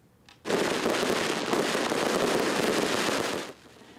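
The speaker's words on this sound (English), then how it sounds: "illegal fireworks still lit up the sky on New Year's Eve" Illegal New Year's Eve fireworks burst in a dense, continuous crackling barrage that runs loud for about three seconds before dropping off abruptly, with no talk.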